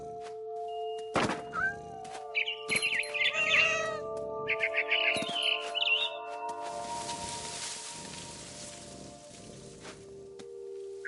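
A cat in the game What Remains of Edith Finch meows several times in short, clear calls over a steady tonal game soundtrack, with soft thumps and a rain-like hiss in the background.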